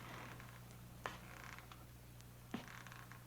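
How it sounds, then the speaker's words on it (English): Faint wooden creaks of an old house in a radio drama, two or three brief isolated groans and clicks over a steady low hum and hiss, with no voices. "was it just the creaking of the old house?"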